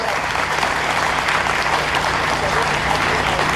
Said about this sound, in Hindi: आप जरा तालियों से इनका स्वागत कर लीजिए।